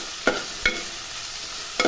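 Onions sautéing in a frying pan sizzle steadily while a spoon stirs them in three distinct scraping strokes, close and moderately loud, with no talking.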